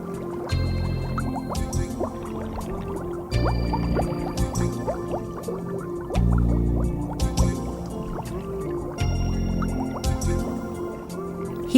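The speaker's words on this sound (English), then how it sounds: "This little otter seems to be more interested in playing with water bubbles." A cartoon otter plays with water bubbles, giving repeated bursts of gurgling, bubbling and dripping liquid sounds in a steady rhythm over a low watery background.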